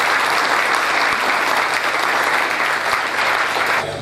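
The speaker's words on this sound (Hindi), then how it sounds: "एक बार इन सभी के सम्मान में जोरदार तालियां बजाइए।" Strong audience applause after a stage play, dense sustained clapping from a large crowd that carries evenly, then drops slightly at the end.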